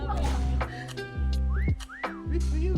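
Whistling in the video game Meccha Chameleon, several short rising and falling tones, loud and close, alternating with bursts of game sound.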